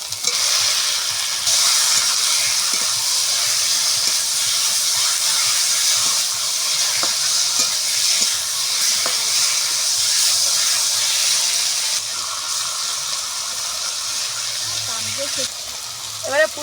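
Lote fish (Bombay duck) going into a hot pan with ground coriander paste, setting off a loud, steady sizzle and hiss of frying that runs continuously, dropping slightly in level near the end, with occasional soft stirring clatter.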